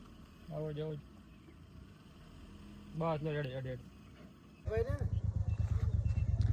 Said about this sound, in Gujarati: મિત્રો હવે બુલેટની પણ એન્ટ્રી થાય છે